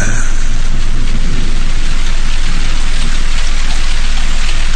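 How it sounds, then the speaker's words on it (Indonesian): Rain patters steadily on roof tiles, a dense, loud, unbroken hiss with a low rumbling undertone, no voices. "Ditambah suara hujan yang bergemericik di genting"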